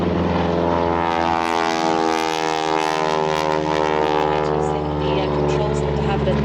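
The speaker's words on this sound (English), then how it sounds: "These two aircraft then will perform a crossover brake to your front, followed by coordinated turns left and right." Two propeller aircraft performing a crossover break at an outdoor airshow, a loud, continuous droning engine roar with steady harmonic tones throughout, no speech over it.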